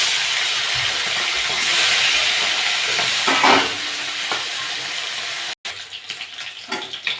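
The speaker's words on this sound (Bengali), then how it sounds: "বাকি মাছগুলো আমি একইভাবে ভেজে নেবো।" Tilapia fish frying in hot oil for a taro-root fish curry, a steady loud sizzle and hiss close up, easing after a few seconds and followed by softer spattering.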